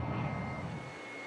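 Jet engines of British Harrier jump jets roar steadily in flight, a loud broad rumble that holds constant and eases slightly toward the end, with no voices present.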